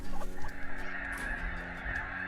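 A dense flock of snow geese at a wildlife refuge during a goose hunt honks continuously, a loud, near chorus of overlapping calls with no talking.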